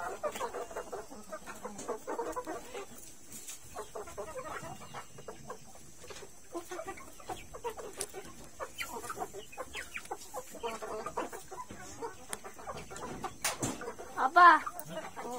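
Free-range village chickens being raised on corn cluck repeatedly in short soft bursts around a farmyard, with people talking at moments and a louder cluck near the end.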